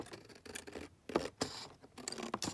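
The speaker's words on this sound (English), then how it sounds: "let's cut this edge off first" Scissors trim an edge off card stock for a belly band, a few close, crisp snips and scratchy cuts separated by short pauses.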